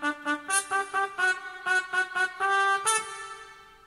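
A synthesized trumpet line, the second trumpet part of a song, played as short repeated staccato notes followed by a few sustained tones, clear and alone with no voice.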